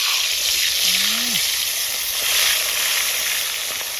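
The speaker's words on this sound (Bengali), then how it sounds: "বিগ সাইজ জিওল মাছ ভেজে নেবো এখন" Large jiol fish fry in hot oil with a steady, bright sizzle and hiss, while a brief low moan rises and falls once in the background.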